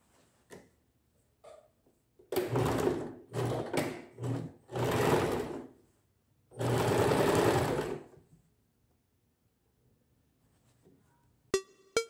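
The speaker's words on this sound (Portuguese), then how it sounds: "vou simplesmente fazer a minha costura aqui, unindo o cos" A sewing machine stitches a trouser waistband seam in several bursts of steady whirring, one long final run, with quiet handling clicks between the bursts.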